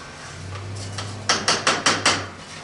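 White rice and green onions stirred in a pan for a Spanish dinner: five sharp scraping clacks of utensil against pan in quick even rhythm, close and loud, over a low steady hum.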